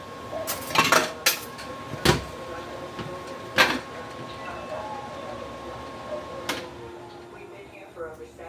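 A lid clatters onto a pot of ginisang kalabasa, with several sharp metallic clanks and knocks of cookware spaced across the scene, and a voice is heard around them.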